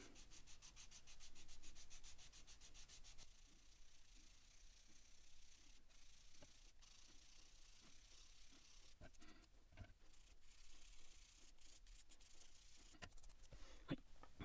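An Alta Ambipoly synthetic resin saxophone reed is sanded by hand, giving very faint, close, repeated scraping and rubbing strokes, fast at first and then uneven, with no talking.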